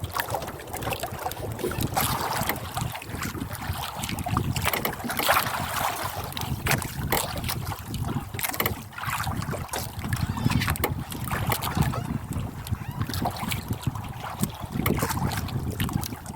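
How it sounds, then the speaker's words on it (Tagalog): Gusty wind roars steadily over a boat's engine hum and water noise at sea in bad weather, loud and continuous throughout. "Lakas ng hangin mga kaidol, masama ang panahon."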